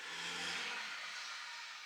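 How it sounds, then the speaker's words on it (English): A neighbor's car passes outside an open window, a fairly loud engine swell at first that fades and thins over about two seconds, heard alone with no talk. "so you heard my neighbor's car."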